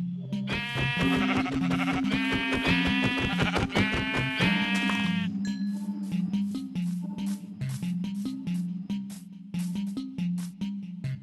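Sheep in the video game Minecraft bleat in loud, wavering calls for several seconds, then a steady clattering patter continues with a low hum beneath it.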